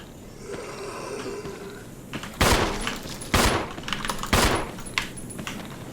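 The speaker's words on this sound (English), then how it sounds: "Pistol." Pistol shots in the video game Resident Evil, three or four sharp loud cracks spaced about a second apart after a quieter stretch of ambient game noise.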